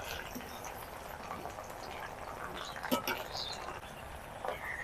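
Chana dal frying in very hot oil for homemade chanachur, a steady bubbling, foaming fizz with small crackles, close and fairly quiet, with no talk over it.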